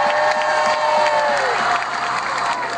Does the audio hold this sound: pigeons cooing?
no